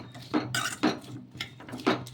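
Onions stirred with ginger garlic paste in a pan, four or five rhythmic scraping strokes of a utensil against the metal, close and clear with no talking.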